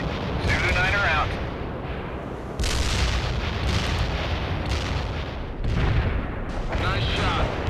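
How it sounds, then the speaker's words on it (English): Artillery strike landing on a target in the World in Conflict video game: several deep booming blasts with rumbling tails, spaced a few seconds apart, with game voices talking over the impacts. "Fire mission received. Putting rounds on target."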